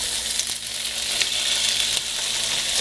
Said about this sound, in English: what we're going to do is just going to throw our beans in.